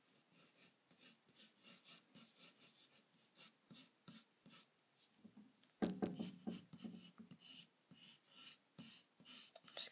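Clover-green colored pencil drawing ground strokes on paper, a rhythmic series of close, soft scratchy rasps repeating steadily, quiet and up close.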